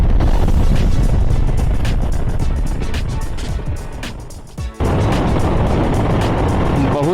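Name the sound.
motorbike riding through a long tunnel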